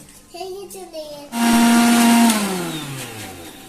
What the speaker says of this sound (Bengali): এবার আমি মিক্সারে দিয়ে এটা